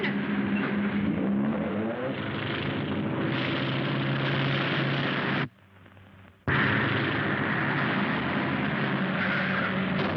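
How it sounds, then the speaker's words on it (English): A propeller airplane drones overhead with a steady, loud engine roar that cuts out abruptly for a moment before resuming at full strength. "There's the plane."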